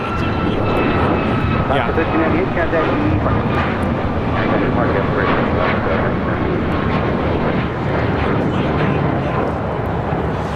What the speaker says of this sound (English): This is Alaska Airlines 1398 taking off to Mazatlan, Sinaloa on a MAX 9